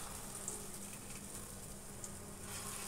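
Vegetable batter piped through a nozzle into hot oil, a steady soft sizzle and crackle of frying, faint and even throughout, with no talking.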